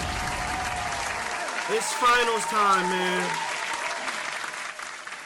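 A crowd claps and cheers steadily throughout, with someone talking over the applause.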